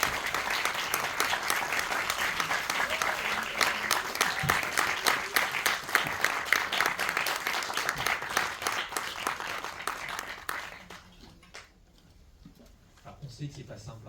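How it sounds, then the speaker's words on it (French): An audience bursts into sustained applause for choreographer Jang Min-hee at a film festival screening, dense clapping that carries on loudly before tapering off near the end. "D'accueillir sous un tonnerre d'applaudissements la chorégraphice de My Mother Story"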